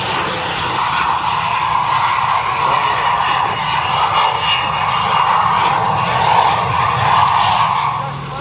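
Airplane engine drones steadily throughout as a vintage aircraft makes a crosswind landing at the Duxford Battle of Britain airshow, a loud sustained roar heard from a distance across the airfield.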